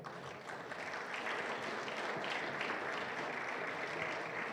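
A church congregation at a special welcome service applauds the Esperanza choir, a faint, steady wash of clapping heard from a distance, continuous and even for a few seconds.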